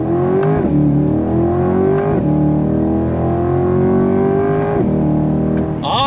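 Chevrolet C8 Corvette 70th Anniversary Edition accelerating hard from a dead stop, loud close engine rising in pitch through several gears with brief dips at each upshift, no talk.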